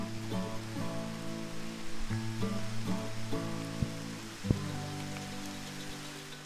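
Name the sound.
raindrops hitting the microphone outdoors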